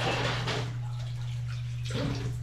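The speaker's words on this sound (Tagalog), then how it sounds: "sasabayan ko lang na paghuhugas ng pinggan" Tap water runs steadily while dishes are washed at a home sink, a continuous close wash with a low hum beneath and a brief clatter near the end.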